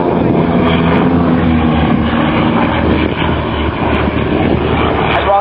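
Grumman Wildcat warbirds flying a mirror pass with smoke on at the East Kirkby Air Show, a loud continuous piston-engine propeller roar close overhead, with a voice talking underneath.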